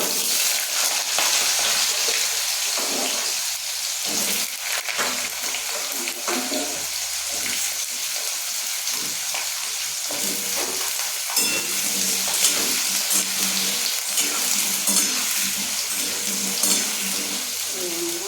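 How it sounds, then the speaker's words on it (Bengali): Potatoes fry in a pan with bay leaf, a continuous bright sizzle with bubbling and occasional stirring scrapes running steadily throughout, close and fairly loud with no talking. "এই যে আমি আলুগুলো ভেজে নিচ্ছি"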